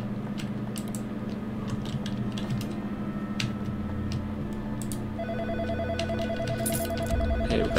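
A telephone in a video game rings with a steady electronic trill over a low background hum, with faint clicks scattered throughout.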